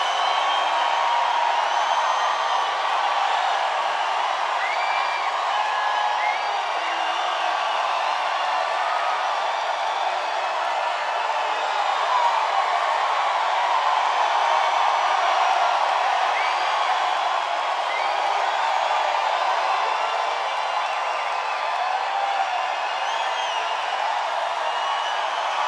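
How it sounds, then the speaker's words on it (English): A large crowd at a Missouri campaign rally cheers, whoops and claps in a dense, steady roar that holds evenly throughout without pause. "That's some crowd."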